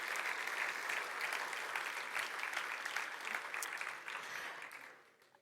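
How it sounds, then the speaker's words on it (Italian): Audience at the Manus Futuri 2022 vocational training awards in Veneto applauding the winners, steady sustained clapping from a fairly distant crowd that fades out at the end. "Fatevi già un grande applauso perché è tutto meritatissimo."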